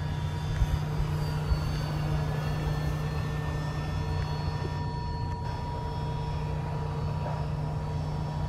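A foam board Kodiak model airplane comes in to land, its electric motor giving a steady buzzing drone with a shifting tone over a low hum, fairly close and continuous throughout.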